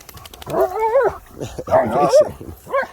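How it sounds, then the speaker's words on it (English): A female dog that won't go swimming lets out two loud, whining, wavering yowls close by, followed by a brief third yelp, with little else in the background. "Silly dog."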